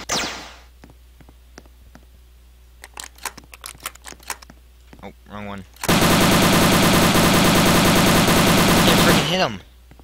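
Gunfire in the Roblox game Avert the Odds 2: scattered single shots and clicks, then a loud sustained automatic burst lasting several seconds, heard close and alone without talk.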